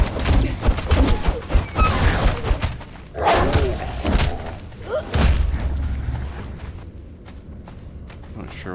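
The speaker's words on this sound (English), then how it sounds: "just gonna wait for him to explode" Heavy booming thuds from an explosion in the video game Conan Exiles on the Isle of Siptah, with loud bursts and rumbling alongside footsteps and co-op players talking.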